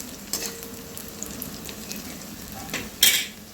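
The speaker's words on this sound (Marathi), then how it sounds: "मी छान खरपूस भाजून घेते" Potatoes fry in a pan toward golden crispness, a soft steady sizzle with a few spatula scrapes and a sharper burst of crackling near the end, close and without voices.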